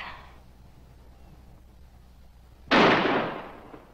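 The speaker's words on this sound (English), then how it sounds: "If you keep firing, they'll have to fire back." A single loud gunshot bursts out in a tense roadside standoff with police, a sharp crack that decays over about a second after a stretch of quiet background hiss.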